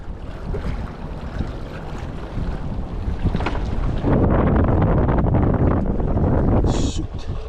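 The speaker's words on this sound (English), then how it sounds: "Ooh, sorry about the wind," Wind buffets a microphone outdoors at a saltwater shoreline in Tampa, Florida, a steady rumbling roar that swells louder midway and drowns out everything else.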